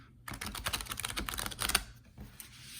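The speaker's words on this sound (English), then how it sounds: "So Leo, I'm going to shuffle one more time" Tarot cards being shuffled at close range during a reading, a dense run of quick papery riffling clicks that loosens toward the end, with no voices.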